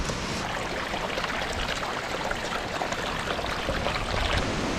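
Storm drainage water from a building's weep system and foundation drains flowing out and emptying across the ground after Hurricane Floyd, a steady rushing, gurgling wash heard close and alone without talk.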